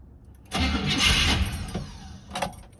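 A 1969 Buick Skylark's engine cranks vigorously for about a second and briefly catches with a rough burst, then fades with a short second crank near the end, close and fairly loud, no talk.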